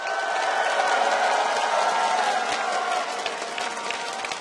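A large esports crowd at LA Live during a League of Legends World Championship quarter final applauds and cheers for TSM, a loud, dense, sustained wash of clapping and shouting that eases slightly toward the end.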